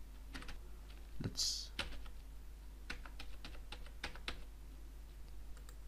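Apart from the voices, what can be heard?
typing numbers on a computer keyboard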